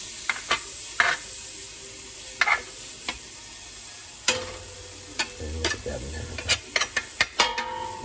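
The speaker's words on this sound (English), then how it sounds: "let me get my bench scraper and we'll scrape that off." A metal bench scraper scrapes across a sizzling pan of soup base, steady frying hiss under a string of sharp scraping strokes and clinks that cluster more densely toward the end.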